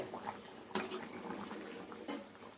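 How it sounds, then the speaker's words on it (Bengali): A pot of pangas and tengra fish curry bubbles softly at a low boil, faint irregular blips and pops with a couple of louder spits, fairly quiet and close. "দেখুন কত সুন্দর ফুটছে, সুন্দর করে ফুটছে। এটা হচ্ছে পাঙাশ ট্যাংরা মাছ রান্না হচ্ছে।"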